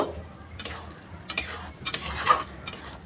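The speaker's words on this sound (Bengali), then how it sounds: "বড়ি আর লঙ্কা গুঁড়োটাও বেশ ভালো করে মিশিয়ে নেব" Poppy seed paste being mixed with fried lentil dumplings and red chili powder, a spoon scraping and stirring in a pan in short repeated strokes, close and clear with no talk.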